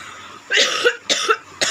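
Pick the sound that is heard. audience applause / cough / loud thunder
cough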